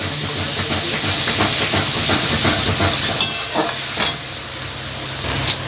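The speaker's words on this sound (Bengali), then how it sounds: "এবার এটা তেলের মধ্যে দিয়ে দেবো মশলাটা ভালোভাবে কষিয়ে নিতে হবে" Spice paste of turmeric and ground mustard frying in hot oil for a Bengali mourala fish curry, a loud, constant close sizzle and hiss with occasional stirring scrapes and pops.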